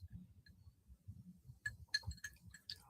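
Glasses of iced tea clink together in a toast, giving a few light, bright taps near the end over a low background murmur.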